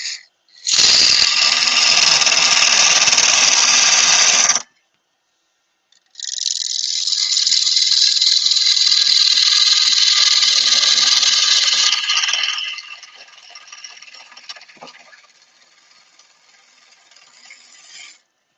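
Wood lathe spinning a wooden mushroom blank while a chisel cuts deeper, loud steady scraping whine in two long bursts separated by a brief pause, then trailing off into quieter, rougher cutting.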